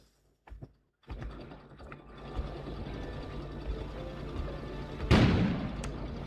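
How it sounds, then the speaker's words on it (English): A sudden loud explosion erupts outside in the video game KONA. It bursts after a stretch of low ambient rumble and faint mechanical clicks, then decays. "An explosion suddenly occurred outside."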